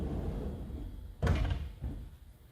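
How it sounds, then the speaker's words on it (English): CNC machine doors being closed: one solid thunk of the doors shutting over a low hum, followed a moment later by a softer second knock. "Now close the doors."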